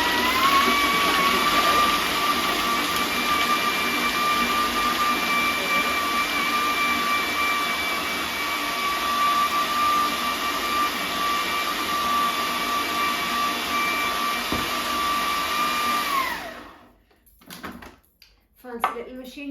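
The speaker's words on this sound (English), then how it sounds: "I'm so grateful for a food processor" A food processor blending wild garlic pesto, running as a loud, steady whirring drone with a high motor whine for about sixteen seconds before cutting off abruptly, leaving brief quiet and faint knocks.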